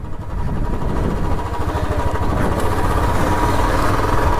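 Motorcycle engines run outside a bike launch event, a close, steady low rumble like idling that holds evenly throughout with no voices.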